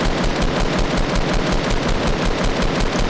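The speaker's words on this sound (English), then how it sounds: "I shot my RPG and then went back to my AR right away, and I started spamming with my AR" Assault rifle fire in Fortnite: a rapid, continuous rattle of shots, loud and close, spamming without pause for the whole few seconds.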